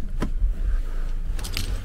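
A set of two keys for a 2022 Toyota Corolla jingles in two short metallic bursts close by, separated by a quiet stretch with a faint background hum.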